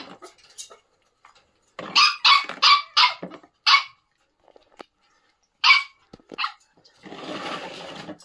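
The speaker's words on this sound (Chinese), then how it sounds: "这个小狗是三条腿的啊" A small, abandoned puppy, one of a pair of twins, barks in sharp bursts of several quick yaps separated by pauses, fairly close, with a brief rustle of handling at the end.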